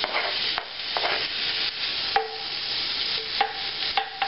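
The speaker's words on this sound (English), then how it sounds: "We're going to throw this bacon in, get it sauteing, get it fried off for you." Bacon fries in olive oil in a pot over medium-high heat, a steady close sizzle broken by intermittent scraping and clinking as a utensil stirs and breaks up the pieces.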